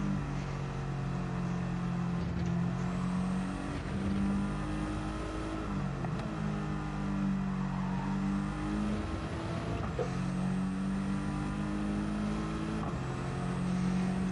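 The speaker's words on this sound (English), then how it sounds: "Revving the shit out of it." A TCR Cup race car at Goodwood drones steadily at close range as its engine is pushed hard through a lap. Brief dips in the note mark gear changes.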